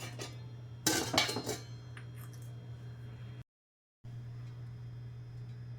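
A cooking pot is handled as chopped pathadi pods are put in to boil, giving a short burst of metallic clanks and clinks, then quieter scattered taps over a constant low hum, broken by a brief dropout.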